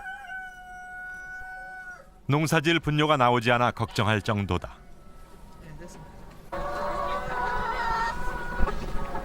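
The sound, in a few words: chickens clucking in a farm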